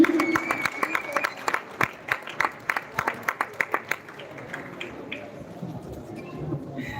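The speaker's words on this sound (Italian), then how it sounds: "Un applauso per i due pugili." Crowd at a regional boxing final in Piove di Sacco claps for two boxers, sharp close handclaps in a quick rhythmic run that thins out and fades into murmuring voices.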